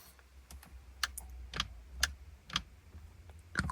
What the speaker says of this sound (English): I like having all the mechanical and clunky switches.